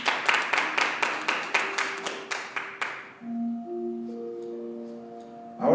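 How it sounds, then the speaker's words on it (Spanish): A church congregation claps together in quick, rhythmic, fairly quiet applause for about three seconds, then sustained keyboard tones ring out. "Denle un aplauso al Señor."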